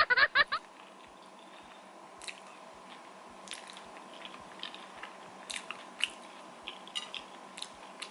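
Sticky rice with durian and mango eaten close to the mic, with a burst of loud wet bites at the start followed by quieter, scattered chewing and soft mouth clicks.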